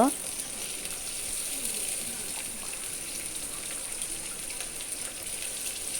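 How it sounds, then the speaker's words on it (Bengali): Sliced onions frying in hot oil for khichuri, giving a steady, soft sizzle that crackles faintly throughout while a person speaks over the cooking. "এখন পেঁয়াজটা একদম হালকা হালকা লাল করে নিলাম"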